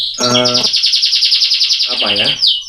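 Lovebird chirping up close, loud rapid trilling chirps in two bursts with a brief pause between them, bright and piercing, with no talking.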